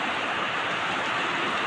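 Heavy rain pouring down around a flooding house, a dense, continuous hiss of falling water that stays even and loud for the whole short stretch.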